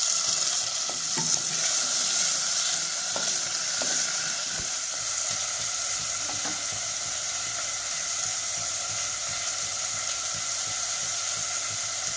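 Potato curry frying in a pan, a steady close sizzle that holds for the whole stretch, with a few soft scrapes and clicks of stirring now and then and no voices.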